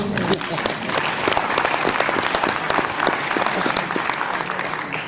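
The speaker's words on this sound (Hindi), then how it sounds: "ताली बजाओ उनके लिए" Applause from an audience at a Hindi network marketing training session, a dense, steady clatter of many hands clapping close by, lasting the whole span with a voice faintly under it at the start.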